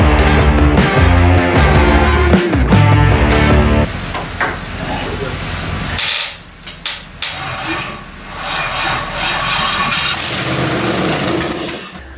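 Datsun 240Z engine running with a rough, loud mechanical roar and clatter, close up; a burst of music plays at the start and the engine note dips and surges later on.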